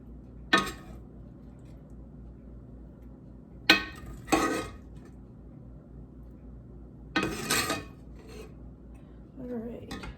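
Heavy iron skillet clanks and scrapes as pizza spaghetti is transferred out of it, a few sharp metallic knocks and rasping scrapes spaced apart over a quiet room.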